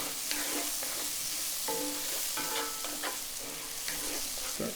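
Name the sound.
stirring raspberry preserves and balsamic into chicken in a pan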